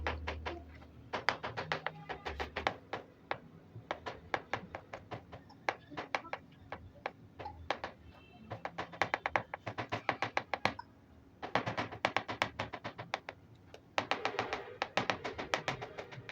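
Strawberries being finely chopped on a board, a rapid run of crisp knife taps in bursts with short pauses, close and fairly quiet.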